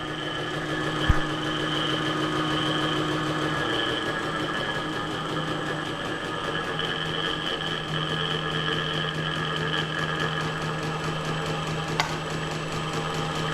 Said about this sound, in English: this piece of plastic is rattling or what? It's making a noise I hadn't made in the past.